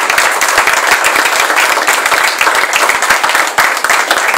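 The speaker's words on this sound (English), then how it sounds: "I would like to have a big round of applause for the guests of honor" A crowd applauds steadily, with dense, loud clapping that holds at the same level throughout.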